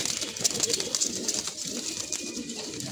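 A large collected male pigeon coos close by, soft throaty coos rolling on repeatedly over faint background noise.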